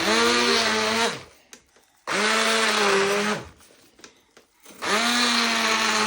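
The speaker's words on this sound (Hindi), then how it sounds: "मैंने मसाला बनाया था कबाबों के लिए, तो वो मैं साथ साथ ग्राइंड कर रही हूँ" An electric grinder blitzes homemade spice masala for kebabs in a home kitchen, running in three loud whirring bursts separated by short pauses.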